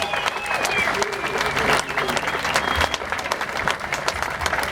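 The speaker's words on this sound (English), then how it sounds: "Let's give all our Vietnam veterans a big round of applause and a big welcome home." Sustained applause from a memorial ceremony audience welcoming home Vietnam veterans, dense steady clapping with crowd noise and a few whoops, holding loud throughout.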